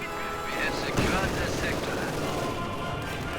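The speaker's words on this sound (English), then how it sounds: "Both Stug's opening up on the conscripts" StuG assault guns open fire on conscript infantry in the strategy game Company of Heroes 2, producing dense, continuous battle noise of overlapping gunfire and explosions. A voice speaks over the din.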